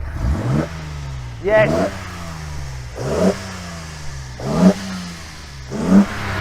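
The engine of a new Nissan Z heard from the front, revved in repeated sharp bursts that rise and fall back to a low idle about five times, loud and close, with a brief spoken word.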